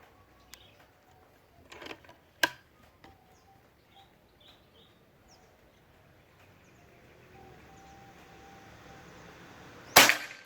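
A PCP air rifle, a Bocap Pajero Gun full CNC Gen 5 in sonokeling wood, is fired at a target. One sharp, loud crack lands close at the very end, after a few softer clicks and handling knocks over faint outdoor ambience.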